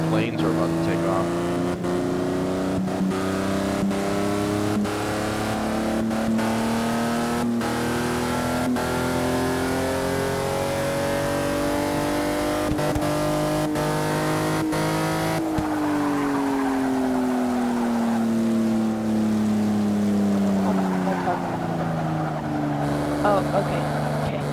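A race car engine in the racing game Forza 6 drones and revs continuously, its pitch climbing and dropping in long sweeps, loud and steady throughout.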